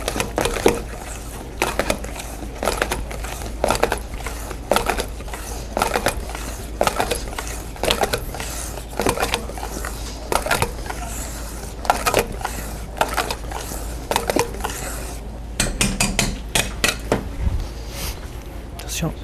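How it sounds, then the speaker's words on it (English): A whisk beats pâte in a bowl during a pastry chef's demonstration, giving repeated rhythmic clinking and scraping strokes close by, steady throughout with a quicker burst near the end, with talk over it. "go with a whisk at the beginning a little bit"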